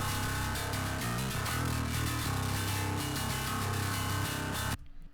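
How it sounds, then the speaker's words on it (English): Distorted high bass layer run through an Ampeg amp pack in a heavy metal mix, grinding loud and continuous with a sizzling top end for nearly five seconds before cutting off abruptly. "when we engage this, the high bass sounds like this"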